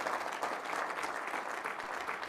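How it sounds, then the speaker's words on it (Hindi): A crowd gives loud, dense applause for Anil Agrawanshi from Haryana. Steady clapping fills the space for a couple of seconds with little talk. "एक बार जोरदार तालियां अनिल अग्रवंशी के लिए।"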